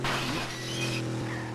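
Cars crashing in a racing video game, heard as a loud shattering, breaking crunch that fades into a steady engine drone over about a second and a half.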